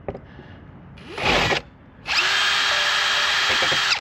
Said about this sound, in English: I'm going to try to drill a pilot hole